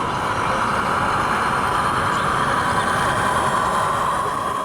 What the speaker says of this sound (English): has got traffic passing, and has also got some loco sounds added on top